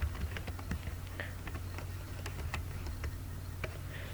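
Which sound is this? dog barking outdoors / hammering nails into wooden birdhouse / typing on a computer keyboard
typing on a computer keyboard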